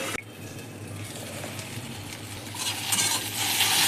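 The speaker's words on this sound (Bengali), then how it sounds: "আর কিছুক্ষণ ভাজলে ঢ্যাঁড়সটা ভাজা হয়ে যাবে" Okra frying in oil in a covered pan gives a steady, soft sizzle close by, with a brief clatter near the start and the frying hiss growing a little louder toward the end.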